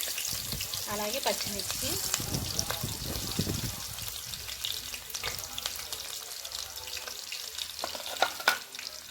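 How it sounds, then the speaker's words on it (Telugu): Onions and green chillies frying in hot oil with turmeric, chilli powder and salt, a steady sizzle broken by stirring scrapes, with a voice talking over it. "ఇప్పుడు మనం నూనె వేసాం కదా, ఇప్పుడు మనం దీంట్లోనే కొద్దిగా ఉల్లిపాయలు వేసుకోవాలి."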